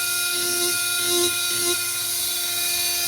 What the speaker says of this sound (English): And the ruby tip, I think you can tell, cuts nice and clean.